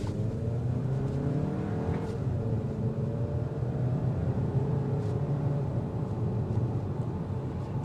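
A 2025 Audi Q3 Premium Plus 45 accelerates steadily on a test drive, its engine droning at high RPM with rising, gliding tones under constant road and wind noise from inside the cabin.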